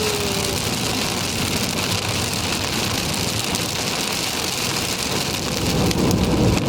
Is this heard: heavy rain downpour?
yes